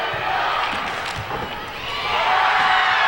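Nevada Union home crowd at a high school girls' volleyball match roaring and cheering loudly after an ace in the deciding fifth game, a sustained wash of shouts and whoops from a packed gym.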